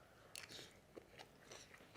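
Crisp crunches of someone biting and chewing the crusty bottom of clay pot chicken and mushroom rice topped with chili, several quiet, close-up bites in quick succession.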